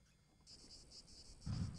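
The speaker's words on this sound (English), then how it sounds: "So yeah, you can hear some of those insects." Cicadas droning in Microsoft Flight Simulator 2024 backcountry airstrip scenery, a steady pulsing high buzz that starts abruptly after a quiet moment and continues with a low rumble rising at the end.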